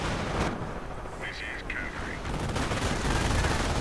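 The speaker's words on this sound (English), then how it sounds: "lots of automatic fires being directed against the Panzer Grenadiers" Automatic gunfire rattles through a WWII real-time strategy battle as Panzer Grenadiers come under fire, a dense, continuous crackle of shots with battlefield noise and a commentator talking over it throughout.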